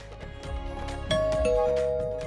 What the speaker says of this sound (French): Quelqu'un sonne à la cloche.